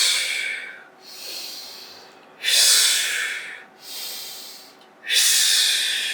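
Rhythmic breathing during a hot Pilates exercise, with slow inhales alternating with strong, forceful exhales, about five breaths, close and alone without talk.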